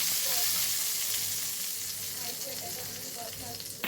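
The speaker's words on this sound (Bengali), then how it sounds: "আর এইভাবে তড়কা লাগাও" A tadka of spices sizzles in hot oil over fenugreek fish curry, a loud, close, continuous frying hiss that stays steady throughout.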